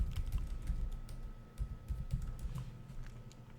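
Soft keystrokes on a computer keyboard as a password is entered, an irregular run of quiet taps heard close and alone.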